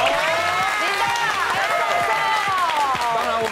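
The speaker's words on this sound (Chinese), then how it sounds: "掌声" An audience on a Taiwanese TV variety show applauds as guests are welcomed. Steady, dense clapping runs throughout, with a host's voice and some shouting layered over it.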